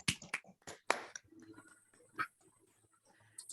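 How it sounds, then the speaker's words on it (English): A handful of scattered, thin claps from seminar participants unmuting on a Zoom call, sparse and compressed, with a few sharp taps spread over a few seconds and quiet gaps between them. "I think we should all briefly unmute ourselves and give a little clap."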